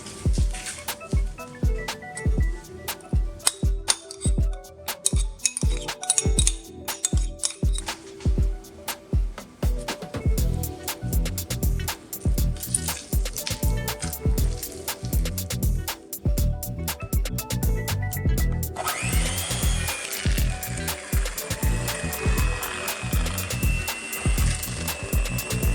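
A stand mixer beats cream cheese with sugar, lemon juice and lemon zest, giving a loud rhythmic whirring and thumping that runs continuously, then changes to a smoother, brighter hum near the end.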